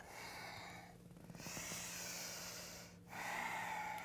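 A long, steady exhale through the nose during a core-strengthening yoga flow, a soft airy rush close to the mic over a quiet background.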